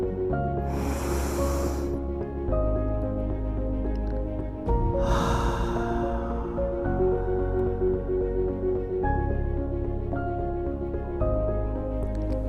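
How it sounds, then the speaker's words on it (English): Two deep, slow inhales of a guided breathing exercise rush in as long airy breaths over a steady, droning musical background, each lasting about a second and separated by a pause. "And another inhale."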